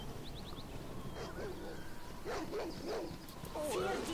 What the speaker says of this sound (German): Dafür jede Menge Hunde.